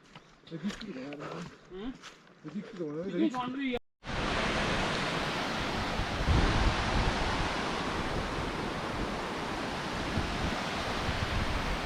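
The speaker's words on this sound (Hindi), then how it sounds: "बहुत ही खूबसूरत झरना बह रहा है" A mountain waterfall pours in a loud, continuous broadband rush close by. Someone talks briefly just before the water noise takes over.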